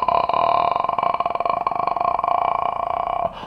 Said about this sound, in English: I want us to first of all start with the vocal fry.